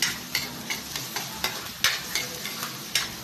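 Aromatics sautéing in a pan for boneless tilapia with curry sauce, a continuous sizzle under repeated sharp scraping stirs of a utensil, roughly three per second, close and clear with no talking.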